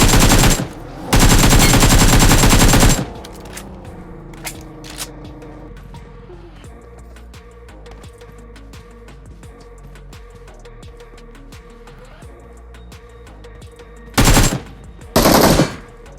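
BGMI (PUBG Mobile) video game gunfire: loud bursts of rapid automatic fire erupt twice, then quieter scattered shots and clatter follow before two more short bursts near the end.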